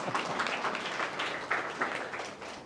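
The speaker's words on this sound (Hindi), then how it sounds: "अरे सही हो गया, जोरदार तालियां।" Audience applause breaks out at a gathering at a Buddhist vihara, a steady wash of many hands clapping at moderate level with a few louder surges, no talking over it.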